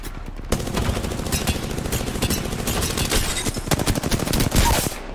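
Rapid bursts of automatic gunfire from a first-person shooter game run almost without pause, loud and close, with dense overlapping shots.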